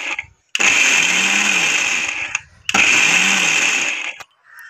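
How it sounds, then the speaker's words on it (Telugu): A kitchen mixer grinder grinds fresh coconut pieces in two loud, steady whirring bursts, each cut off sharply, with short silent pauses between. "వీటిని అయితే మిక్సీకి వేస్తున్నాను"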